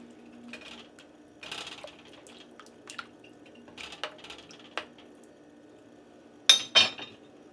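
Beef neck bones are stirred in a pot in a quiet kitchen, with scattered light clinks and scrapes of a utensil against the pot and a couple of sharper metallic knocks near the end.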